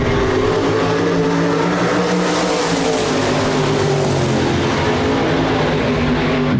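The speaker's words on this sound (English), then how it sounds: "As Christensen brings him to the green off turn number 4, we go back to racing." Hobby stock race cars roar around a dirt speedway oval at Park Jefferson, a continuous loud blend of several engines droning and revving together with no talk over them.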